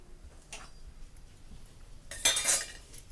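Fried ash gourd puris are lifted out onto a metal plate, heard as a couple of sharp clinks and scrapes, the louder one near the end, against a quiet background.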